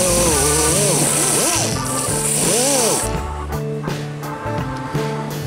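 A power tool drives a worn polishing disc, lubricated with WD-40, against a Yankee No. 992 vise. A harsh, loud grinding rush runs under a motor whine that repeatedly sags and rises in pitch as the load changes, then eases to a steadier hum.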